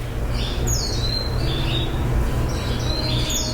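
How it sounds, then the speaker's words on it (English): Birds chirp in the distance, a few high thin tweets repeating over a constant low hum of background noise. "The bird noises today."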